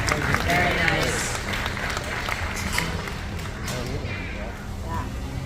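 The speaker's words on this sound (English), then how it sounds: "Let's give him a little round of applause." A crowd claps and cheers steadily after a live glassblowing demonstration, a dense, sustained wash of applause with voices mixed in throughout.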